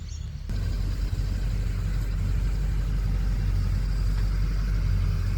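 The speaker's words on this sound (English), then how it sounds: "now they've decided to drive Chev pickup trucks around" Chevrolet pickup trucks drive around in the countryside, a steady low engine rumble close by that holds at an even level after a brief quieter opening.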